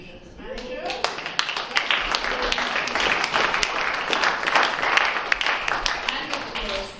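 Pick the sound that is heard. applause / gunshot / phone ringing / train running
applause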